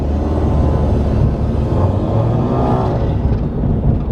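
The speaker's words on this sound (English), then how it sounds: "I'm gonna rev my car." Car engine at close range with a steady, loud low rumble throughout, rising slightly in revs with a faint turbo whoosh, no talking over it.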